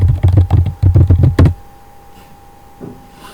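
A computer keyboard at a hospital registration desk gives a quick burst of close, loud key taps for about a second and a half as a patient name is typed, followed by quiet.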